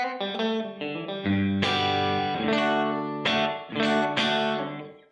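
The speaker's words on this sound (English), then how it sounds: "Okay, it's got that room reverb. It's not super huge. It's not a big hall. It's just a room reverb." An electric guitar plays a sequence of chords and notes through a Donner reverb pedal on a modest room setting, each note ringing clearly with a short tail and no voice.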